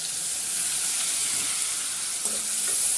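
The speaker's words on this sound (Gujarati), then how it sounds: "થોડા ટામેટાં પણ નાખી દીધા છે આપણે." Tomatoes fry in a pan for sabudana khichdi, giving a loud, steady sizzle and hiss that runs unbroken, close up and with no talking over it.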